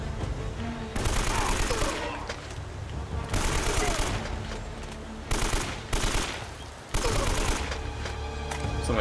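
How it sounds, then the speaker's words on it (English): Machine gun fire in Uncharted: Drake's Fortune on PS4: loud, dense automatic bursts come in several long volleys separated by short lulls of quieter ambience. "Machine gun."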